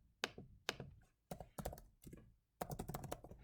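Close, distinct keystrokes on a computer keyboard while writing code, arriving in small irregular clusters of sharp taps with short gaps, quiet overall and without speech.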